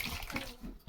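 Hot water pours briefly into a cooking dish of curry, a short soft splashing gush that fades within a second.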